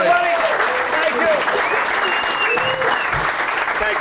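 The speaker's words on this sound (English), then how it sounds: "Let's give him a nice round of applause." Steady, dense audience applause fills a comedy club as a comedian is welcomed, loud and continuous throughout with no talking over it.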